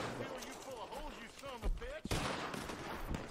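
Gunfire in Red Dead Redemption 2 Online, a few sharp shots cracking out midway and near the end against a busy background of game noise, with someone talking throughout.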